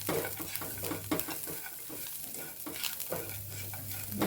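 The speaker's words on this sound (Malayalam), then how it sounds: "നല്ലോണം ഒന്ന് ഇളക്കാം ഈ ചിക്കനിൽ മസാല ഒന്ന് പിടിക്കണം" Fried chicken being stirred into masala in a pan, a continuous sizzle with frequent spoon scrapes and knocks against the metal, close and steady throughout.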